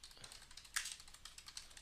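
Quick rapid typing on a computer keyboard, a steady patter of close, crisp key clicks with one louder tap partway through, no voices.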